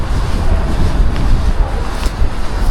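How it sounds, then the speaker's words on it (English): Steady wind buffeting a microphone, a loud low rumble with gusty fluctuations throughout, no clear talking. "the wind's picked up a bit"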